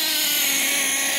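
A Kyosho Inferno ST nitro RC car engine running at about three-quarter throttle, a steady high-pitched buzzing whine, loud and close, with no talking.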